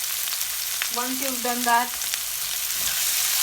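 Ginger, garlic and green chilies frying in a pan for cabbage manchurian gravy, a steady sizzle running throughout with a brief stir partway, while a person speaks briefly over it.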